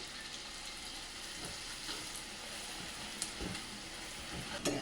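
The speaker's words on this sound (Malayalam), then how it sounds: "ഈ മിളക് വറുത്ത് വെച്ച് കൊടുക്കും" Chili, garlic, green chili and ginger frying in hot oil for a homemade prawn pickle, giving a steady close sizzle with light crackles and occasional stirring taps, no voices.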